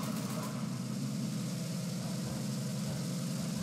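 Tank engine in the War Thunder video game, a continuous low droning rumble with a steady mid-range hum, even and unbroken, with no talking.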